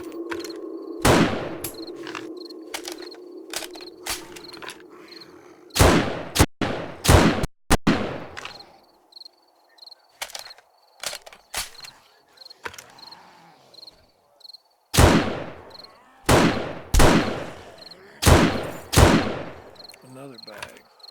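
Gunfire in the video game 7 Days to Die, repeated loud sharp shots in quick clusters with gaps between bursts, a faint steady insect-like chirp underneath.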